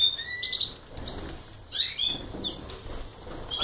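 Belgian canaries, including young birds, in a cage; short bright chirps and brief warbles come in scattered bursts close by, with a faint low background hum.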